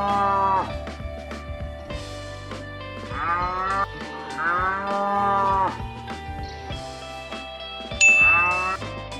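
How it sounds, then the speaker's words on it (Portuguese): A cow lowing in a series of long, drawn-out moos, loud and close, with short pauses between calls and a bright chime near the end. "Resposta correta, alternativa letra A, vaca."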